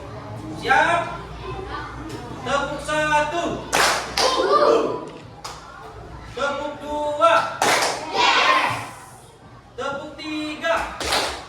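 Children clap a counting routine in rhythmic bursts of one, two and three claps, loud and close, with an adult voice speaking between the claps.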